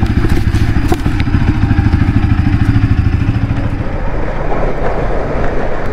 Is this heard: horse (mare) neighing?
no